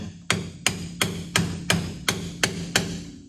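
Eight evenly spaced metal hammer blows drive a brake dust cap on with a socket during a 1969 Chevrolet Camaro drum-to-disc brake conversion, each a sharp close clang with a short ringing decay.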